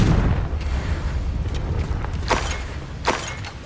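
A Confringo explosive spell goes off in Hogwarts Legacy, a few sharp bursts over a low rumbling game soundscape, with two distinct booming pops standing out near the end.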